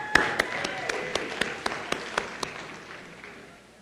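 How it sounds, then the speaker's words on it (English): An audience at a town financial meeting gives a brief round of applause, with a soft wash of clapping and sharper individual claps in a steady beat that fade away over a few seconds. "give her a round of applause"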